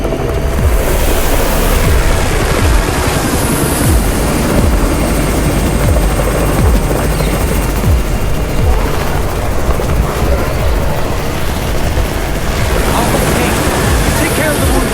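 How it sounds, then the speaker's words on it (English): A helicopter arrives in the zombie survival video game Undawn, its rotor thumping loud and steady throughout over a dense wash of roaring noise, with game voices talking over it. "It's the Raven's chopper! We have backup!"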